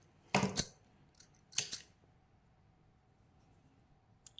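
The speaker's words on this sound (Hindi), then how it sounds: "थोड़ा सा एक्स्ट्रा निकालें, इसको काटें, थोड़ा बड़ा काटें ऐसे" Scissors snip through crochet yarn to make a tassel: two quiet, short cuts about a second apart, with a faint tick between them and near silence around them.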